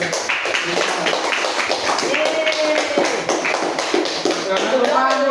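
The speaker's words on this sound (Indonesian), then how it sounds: "tepuk tangan untuk semua" Classroom applause from pupils in a reproductive health lesson, a fairly sparse run of individual hand claps with a loose rhythm, while voices talk over them.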